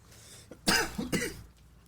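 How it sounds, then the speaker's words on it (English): Two harsh, close coughs in quick succession, loud and raspy, with quiet background between them. "Coughing like a bitch"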